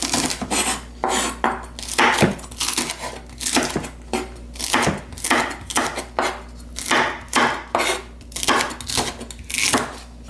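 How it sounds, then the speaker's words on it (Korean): Rapid, repeated knife chops cut chili peppers on a board in a rough, steady rhythm for several seconds, close and crisp, with a faint scraping texture between strikes. "고추도 조금 어서 썰어 놓을게요."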